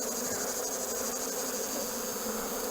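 Honeybees buzz densely and steadily around a syrup feeder on a hive, a close, continuous hum with no voices.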